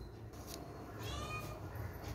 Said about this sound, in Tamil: பூனை கற்றுது.